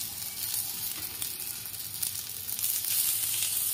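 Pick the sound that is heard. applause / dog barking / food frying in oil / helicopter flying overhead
food frying in oil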